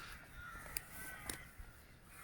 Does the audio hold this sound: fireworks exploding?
no